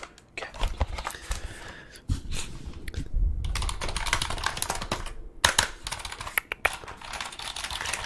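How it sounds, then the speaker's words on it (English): Rapid clicking keystrokes on a PC computer keyboard used as an ASMR trigger, close and crisp, in irregular bursts with brief pauses and a few heavier thumps. "We'll use my PC keyboard that I'm using."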